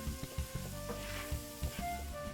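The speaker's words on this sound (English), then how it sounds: "All right, so I'm adding my mushrooms, and I'm going to add some salt to it" Mushrooms hiss and sizzle loudly as they hit a hot pan on medium heat for chicken marsala, with a steady crackle broken by several sharp bursts and light stirring knocks, close by and with no talk.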